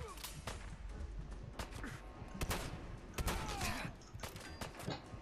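Shotgun gunfire in the video game Fallout 4, several sharp loud blasts spread through a busy stretch with other game noise and brief voices.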